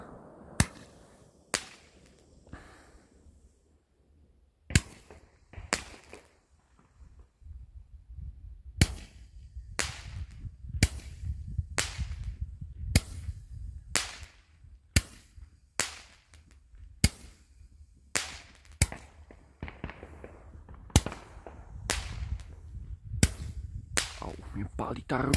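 New Year fireworks at the turn of 2024 crack and bang in a string of sharp, loud reports, some spaced seconds apart and others in quick bursts, over a low rumbling background.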